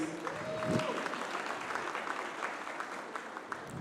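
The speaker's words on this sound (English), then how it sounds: "A better round of applause, please." An audience at a panel session of a conference gives a round of applause, dense continuous clapping at moderate level, with a brief voice rising over it near the start.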